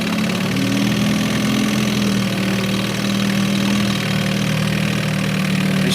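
An Evinrude 4 hp Excel outboard motor idles steadily in water close by, exhaust submerged, a low, even hum with a faint rhythmic burble that holds constant throughout.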